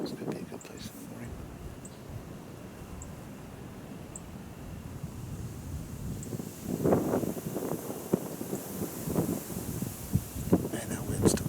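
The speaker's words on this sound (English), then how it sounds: "Man, that wind's still getting it." Outdoor wind buffets the microphone in a steady rough roar for the whole stretch, growing gustier toward the end, with people talking now and then beneath it.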